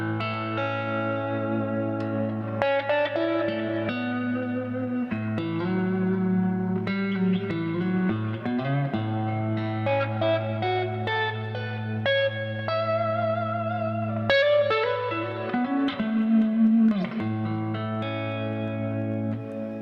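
Ambient electric guitar played through a Boss Katana amp with chorus, echo and reverb effects, sustained shimmering notes and chords washing continuously for about twenty seconds, loud and close with no talking.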